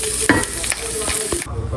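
Pansit noodles stir-fry in a pan with a loud, constant sizzle, punctuated by a few clatters and scrapes of a utensil against the pan.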